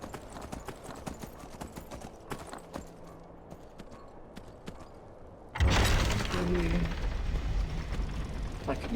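Horse hooves clip-clop steadily in the video game Skyrim, a quick regular beat that grows louder and busier partway through, mixed with clanking game effects and faint background sounds.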